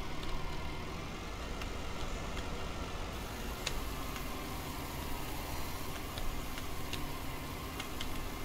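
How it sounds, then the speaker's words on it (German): A farm machine idles in Farming Simulator 19, a steady, continuous engine drone with a low rumble and occasional faint clicks, running alone without talk. "Also im Leerlauf klingen die Maschinen ja alle noch ganz witzig, ne?"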